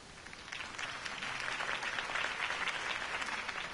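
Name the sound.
crowd applause at a campaign speech in the video game Batman: The Telltale Series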